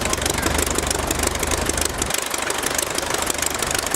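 Rotary engine of a 1912 Taube F aircraft running steadily with a loud, rough, knocking drone and constant rush of propeller wind, close by with no break.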